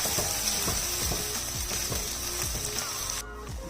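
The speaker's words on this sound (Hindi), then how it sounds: "प्याज को फ्राई करते हुए मुझे तकरीबन 2 से 3 मिनट हो गए।" Onions frying in a pan for daal mash give a steady bright sizzle, with a regular scraping tick of a spoon stirring about every half second and no talk.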